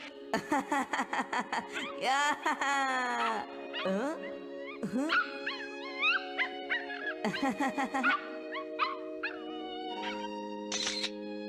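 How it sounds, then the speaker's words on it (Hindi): A cartoon dog whimpers, yips and howls in a series of high, wavering cries with short pauses between them. "मॉम, अभी मैंने एक डॉग की आवाज सुनी"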